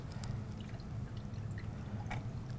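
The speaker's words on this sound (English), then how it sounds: "And we'll strain it one last time right into our finished glass." A mocktail is strained into a finished glass: a soft, steady trickle and light drips of liquid pouring, close and quiet over a low background hum.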